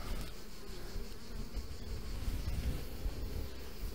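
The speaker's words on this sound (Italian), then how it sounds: "ci sono tante api eh, delle volte si, si nascondono e non si trovano" Honeybees buzz densely around hive frames during a summer varroa treatment with the queen caged, a steady close drone of many insects with no talk.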